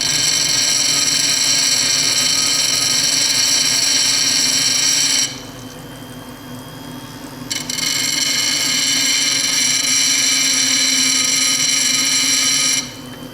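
A piercing, steady whine of a stone being ground into a cabochon on a lapidary wheel, dropping away for a couple of seconds in the middle, then resuming at full strength before stopping.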